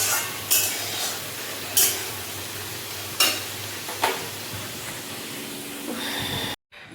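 Potatoes fry in a pan with a steady, close sizzle, broken every second or so by sharp scrapes of stirring, before the sound cuts off abruptly near the end.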